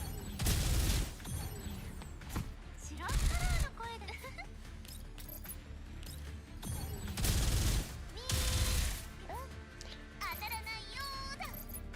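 Turret fire in the game GFL2 Exilium, several loud bursts of rapid shots and explosive booms recurring every few seconds, with a voice talking between and over them.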